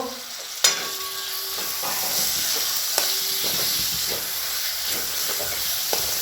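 Chopped tomatoes are stirred into masala frying for chicken do-pyaza, setting off a sharp clack and then a dense, steady sizzle. A few more utensil knocks against the pan break through the hiss.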